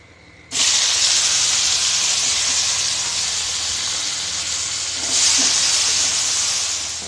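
A tomato dropped into a hot pan for vada pav sets off a loud, steady sizzle that starts abruptly and swells again near the end, with no talking over it.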